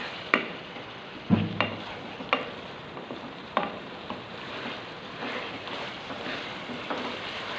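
Green chillies and spices being stirred into a potato and eggplant curry in a pan, a soft, steady simmering hiss with a handful of sharp spoon knocks against the pan, close by.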